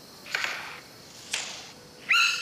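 A bird sings in a few separate, clear calls: two airy, whistled phrases spaced apart, then a sharper, brighter rising note at the end, each standing out alone against quiet background.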